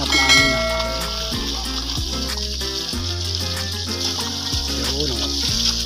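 Irrigation water runs through a connected pipe into a rice paddy, a continuous rushing, splashing flow, loud and close, with music playing over it.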